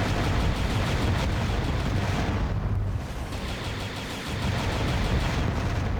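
A homing missile launches at a Vulcan driller enemy in a Descent-style shooter level, a dense roaring blast that dips briefly and then swells again, loud and continuous with no talking.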